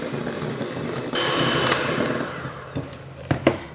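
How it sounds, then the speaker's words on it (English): Flour being stirred into a sticky date pudding mixture, a steady whirring mixer-like drone running throughout with a few sharp clinks near the end. "And then I'm going to stir this in."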